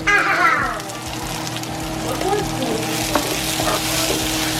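Guatemalan tamales cooking in a lidded pot give off a steady close sizzle and bubbling, with a brief clatter as the lid goes on, under faint background voices.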